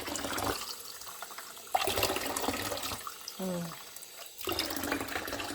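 Clear natural water or ice being rinsed under running water, a loud close splashing and pouring that stops briefly and resumes, with a short squeak in the pause.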